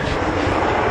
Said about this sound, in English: You can hear a helicopter in the background.